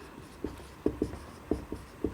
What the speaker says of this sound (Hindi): ऊपर यहाँ पे लिखेंगे